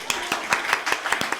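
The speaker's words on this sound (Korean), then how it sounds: "박수!" A church congregation claps in a quick, even rhythm, about seven sharp hand claps in a row, close and lively.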